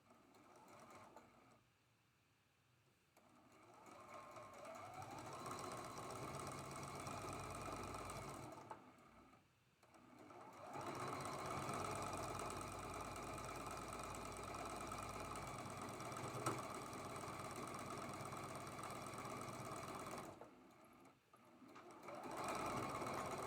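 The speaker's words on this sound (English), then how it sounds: "And we're going to sew that seam." A sewing machine stitches a seam on a traditional quilt block, running in long steady bursts of fast, even mechanical whirring with short quiet pauses between runs.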